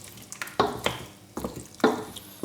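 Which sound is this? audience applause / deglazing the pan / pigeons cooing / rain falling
deglazing the pan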